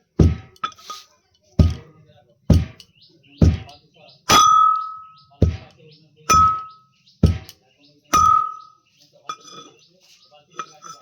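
Repeated pestle strikes pounding spices in a metal hamandista mortar, about ten sharp metallic thuds with ringing clinks at an irregular steady pace, close and loud, with soft voices talking between blows.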